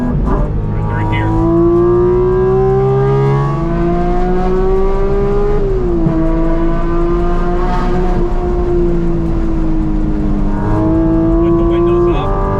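A Porsche GT4 RS Weissach engine drones loudly from inside the cabin while driving with the windows up, a deep steady rumble with gently rising and falling pitch as the revs shift, and a person talks over it.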